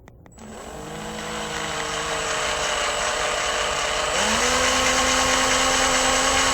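A power drill whirs steadily as it bores a hole through a spar for the wings of a 1/4 scale Piper Cub model airplane, the pitch rising and holding near the end, close and alone.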